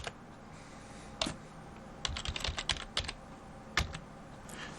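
Someone types a password on a computer keyboard during an Ubuntu Linux login, a quiet, close run of irregular key clicks in short bursts against a low room hum.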